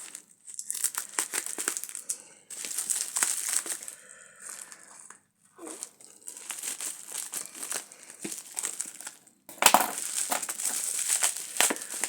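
Parcel holding a Boblov T5 body camera being unpacked by hand, close crinkling and crumpling of plastic wrapping in bursts with short pauses and one louder rustle near the end.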